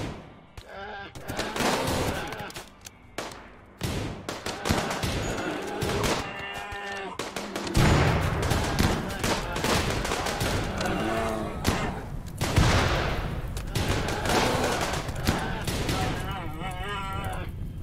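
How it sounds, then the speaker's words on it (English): Gunfire in a video game firefight, with repeated sharp shot bursts and thuds tumbling over one another, some rapid and close, others more spread out, with a voice talking intermittently underneath. "Starting to put some shots on."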